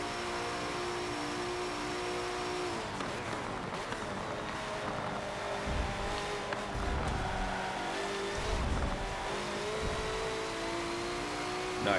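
A BMW M6 GTLM race car in Forza 7 revs and climbs through the gears, its engine whine rising and dropping at shifts over a dense mechanical drone, with brief rumbling bursts later in the lap.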